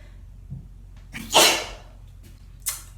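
A single loud, close sneeze bursts out mid-clip, preceded by a faint intake and followed by a short, softer sniff or exhale, against a quiet indoor background with no talking.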